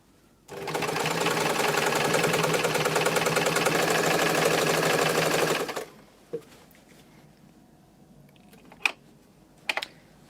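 A sewing machine runs steadily for about five seconds while stitching a trouser seam, then stops. A few sharp clicks and handling knocks follow in the near silence.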